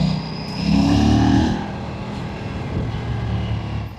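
An Aprilia RS 457 motorcycle ridden in eco mode through traffic: a steady engine drone that swells briefly with a short rev, then settles back to an even hum.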